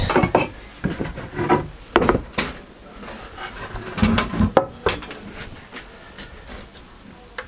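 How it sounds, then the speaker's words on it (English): Close handheld cutting or rasping on the end of a wooden workpiece that has insect damage and rot, a series of short scraping and knocking strokes in uneven rhythm, moderately loud and alone. "So I'm going to trim that off"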